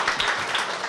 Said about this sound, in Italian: un applauso a Luca